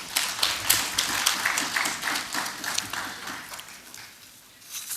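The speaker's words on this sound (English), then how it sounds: "applause" Sustained applause from an audience at a parliamentary plenary session, a dense steady wash of many hands clapping that eases slightly toward the end before swelling again.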